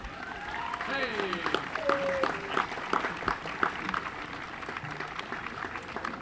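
An audience at a municipal band concert applauds a guest baritone vocalist, a steady wash of clapping at moderate distance while an announcer speaks over it.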